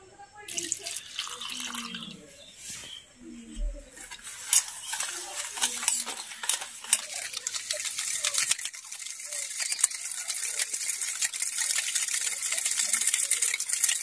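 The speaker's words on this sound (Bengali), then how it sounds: "এবারে এই বাটির পরিমাপ করে এক বাটি দুধ দিয়ে দিচ্ছি।" Milk poured from a bowl into eggless vanilla sponge cake batter, a steady close splashing pour that builds into a continuous wet rush with stirring clinks, no talk.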